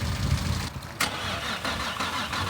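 A big-turbo Nissan G35 engine cranking over in the cold without catching, the starter churning steadily and loudly up close, with a short sharp burst partway through.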